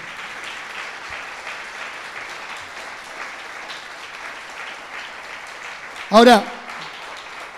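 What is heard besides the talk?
church congregation applauding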